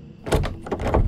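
A school restroom door rattles and thumps in a quick burst of several knocks and clatters, close and fairly loud, with no voices.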